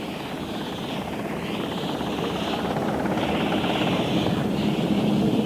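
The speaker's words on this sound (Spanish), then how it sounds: "Cuando el helicóptero de rescate se aproxima a la balsa" A rescue helicopter's steady rotor drone and whine, loud and constant, growing slightly stronger as it approaches a life raft.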